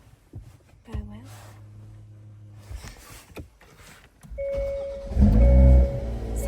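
A 2022 Hyundai i30N engine starts after a few quiet handling noises inside the car: a cranking surge rises into a loud, deep, rumbling idle that carries to the end.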